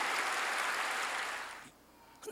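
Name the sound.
audience applause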